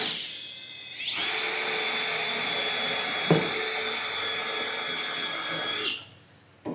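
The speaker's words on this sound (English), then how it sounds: "we're going to take a drill, come to the center of one of these bolts" A handheld power drill bites into the center of a tight bolt head to start a dent, a loud, steady high-pitched whine held for about five seconds after a quick spin-up, with a brief clunk midway before it winds down.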